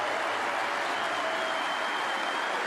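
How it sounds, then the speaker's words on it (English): Applause from spectators at a neighbouring snooker table during a German Masters quarter-final, a steady distant wash of clapping that runs for the whole stretch without letup. "Wild applause from the neighbouring table."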